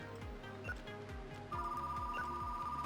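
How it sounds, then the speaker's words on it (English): A telephone rings in the store game Retro Rewind, a steady electronic tone cutting in halfway over a pulsing, rhythmic background beat, no speech. "Just as the phone rings."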